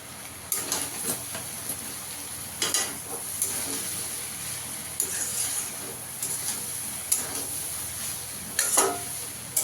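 Whole spices (cumin, coriander, dried chilli, garam masala) sizzle in a frying pan while a spoon stirs and scrapes in bursts every second or two, close and steady.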